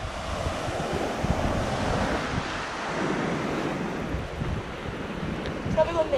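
Ocean waves wash onto a Baltic Sea beach in a continuous broad roar of surf, mixed with heavy wind buffeting the microphone, with no clear pauses.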